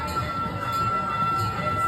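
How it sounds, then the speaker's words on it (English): A gas-powered handmade replica of an 1863 Central Pacific steam engine train runs steadily on a ride through the Kemah Boardwalk entertainment complex in Texas, giving a continuous rumble with a sustained tonal hum heard from on board. "a gas-powered handmade replica of an 1863 Central Pacific steam engine train that will take you through the 60-acre entertainment complex"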